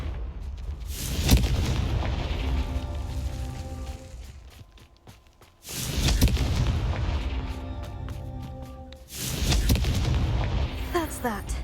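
Confringo blasting spell explosions in Hogwarts Legacy on PC, heavy booming blasts with long rumbling tails that come three times over several seconds amid game sounds.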